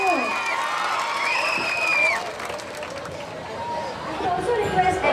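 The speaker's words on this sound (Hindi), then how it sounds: "जोरदार तालियां होनी चाहिए।" A crowd of girls at a drugs awareness and women safety rally claps and cheers, with shrill calls and lively chatter mixed into the applause.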